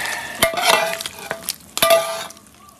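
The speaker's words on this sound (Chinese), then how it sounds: "来块面，昨天剩的青菜豆皮下进去，下入调好的料，搅拌搅拌。" Noodles, leftover greens and tofu skin are stirred with seasoning in a pot, a close run of loud scraping and clinking strokes over a soft sizzle.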